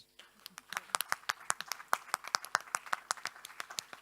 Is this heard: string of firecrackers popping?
no